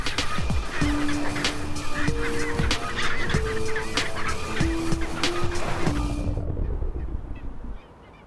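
Skuas attacking an isolated victim give loud, harsh honking calls in a busy overlapping chorus, then fade out sharply at the end.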